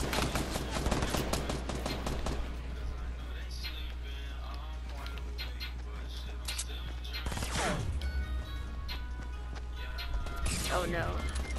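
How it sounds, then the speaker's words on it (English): Gunfire aimed at the player in Fortnite, loud clusters of rapid shots at the start and again near the end, with a sweeping effect and a steady game hum between bursts. "Oh, I'm getting shot at."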